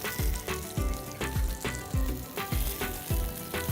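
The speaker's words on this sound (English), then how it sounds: "So the patties have had 2 minutes of frying on either side." Loud, steady sizzling of burger patties frying in hot oil, with rhythmic bursts of crackle and popping recurring about every half second.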